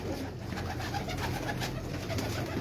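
Pigeons of the Kamangar, Golden and Kasuri breeds coo steadily from a Karachi rooftop, a continuous, close, dense murmur lasting throughout.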